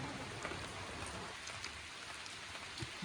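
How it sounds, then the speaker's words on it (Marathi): Heavy rain falls steadily, a dense, even wash of patter with occasional louder drops, no voices. "जाम पाऊस पडते"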